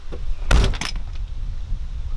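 A Fiat 126 car door is shut with a loud, close thud followed by a brief rattle of loose parts, then quiet background noise remains.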